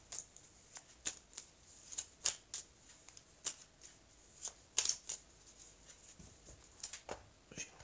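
Tarot cards are shuffled and riffled in a quiet room, giving a series of sharp papery snaps and flutters in irregular bursts, close and fairly faint.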